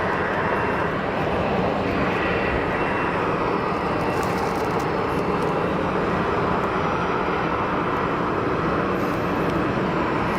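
An Iberia A321ceo airliner rumbles at Geneva Airport with a broad, steady engine roar that holds at an even level, distant and unbroken, with no voices.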